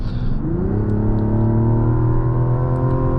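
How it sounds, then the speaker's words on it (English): A 2024 Mazda CX-90 Turbo S Premium Plus accelerates from inside the cabin, its engine note climbing steadily and loudly in pitch as the SUV picks up speed, with no talking. "But when you want it to, it picks up and goes, and downshifts are okay."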